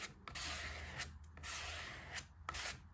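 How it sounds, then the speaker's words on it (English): White paint scraped across a journal page with a key card, a broad gritty rasping in repeated long strokes, close and steady with brief pauses between passes. "take some white on your key card like that, and you're just going to scrape this all over"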